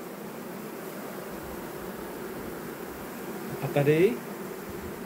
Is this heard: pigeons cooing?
no